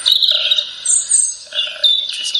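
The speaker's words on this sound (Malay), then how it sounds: "dapat dengar tak bunyi kicauan burung?" Birds chirp outdoors at Oxford University, with bright, high repeated tweets and short trilling phrases that come in waves, clear and fairly close, with no talking.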